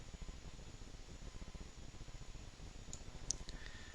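A computer mouse clicking during 3D modeling work: faint, rapid, regular clicks run throughout, with a few brief higher ticks near the end and no speech.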